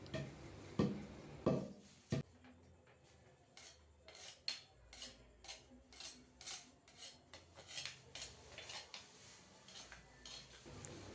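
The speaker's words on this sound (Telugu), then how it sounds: "ఇలా కలుపుకుంటూ దంచాలి" Gongura chutney is pounded and mixed in a mortar, producing a steady run of sharp, close knocks and scraping clatters in an irregular rhythm with no talking.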